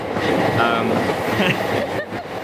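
A train rumbles steadily through Ikebukuro station in Tokyo, continuous rolling and rail noise filling the space, with faint echoing background murmur.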